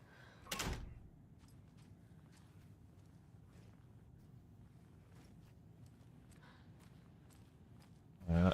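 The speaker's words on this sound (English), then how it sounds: "I'll shut this door." Door shutting in Diablo IV, with a loud thud at the start and another close, heavy knock at the end, separated by quiet ambience and faint footsteps.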